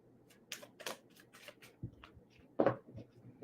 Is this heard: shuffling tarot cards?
yes